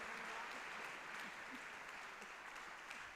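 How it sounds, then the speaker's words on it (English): An audience applauds at an annual Martin Luther King Jr. Day tribute event, a faint, steady wash of clapping heard from a distance that fades slightly toward the end. "a round of applause for sweet"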